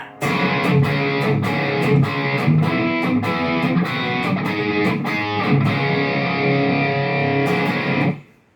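A heavily distorted electric guitar through a Mooer GE-150 multi-effects pedal plays a steady, dense riff with rhythmic accents, loud and continuous, then cuts off abruptly near the end.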